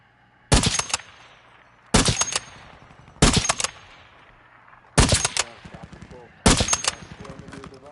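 Gunfire in Warzone 2.0: five sharp, loud bursts of automatic fire spaced roughly a second and a half apart, each followed by a decaying echo.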